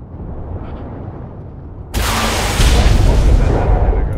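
An RPG rocket in a shooter video game: quiet rumbling background, then a sudden loud blast that becomes a sustained, heavy explosive roar, close and overwhelming, with no speech over it.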